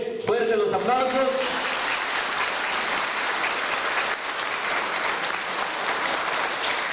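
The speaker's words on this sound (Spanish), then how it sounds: "Fuertes los aplausos." Loud applause from a crowd at a Mexican anti-mining gathering welcoming community and civil association members, a dense sustained roar of clapping following a brief announcer's voice at the start.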